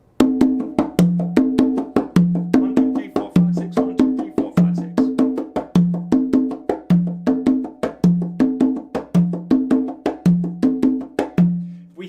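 Abakuá drums in a Matanzas-style rhythm played against the clave, with a steady repeating pattern of sharp hand-drum strokes, two notes on a middle drum alternating with lower tones, close and alone.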